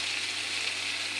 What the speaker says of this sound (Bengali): এখন ভালো করে ভাজা করে কষে নিই।